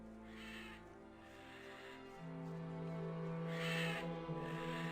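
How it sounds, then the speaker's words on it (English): A bird calls in Gothic 2, with a couple of harsh cawing cries rising over quiet game ambience, moderately near. "Shush. Goddamn bird."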